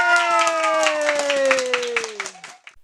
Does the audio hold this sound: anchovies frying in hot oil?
no